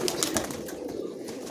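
Giribaj pigeons, a pair of red-spotted flying pigeons at a home loft, give soft cooing and rustling sounds close by, steady and moderately loud over a short stretch with no talking.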